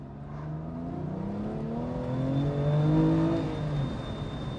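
The engine of a BMW M2 Competition with 410 horsepower, heard from inside the car, rises and falls through several gears as it accelerates, a steady droning tone climbing in pitch, with no talking.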